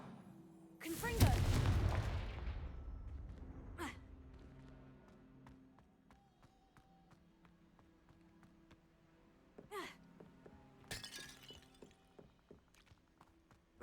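A Confringo blasting spell cast in the video game Hogwarts Legacy: a loud whooshing blast with a booming low impact, followed by quieter crackles, magical effects and scattered game sounds, with brief vocal gasps.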